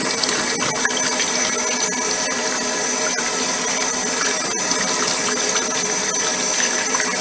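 Running water pours steadily over hassar fish being rinsed clean after a lemon squeeze, a constant loud gushing stream with faint handling clatter and no talk.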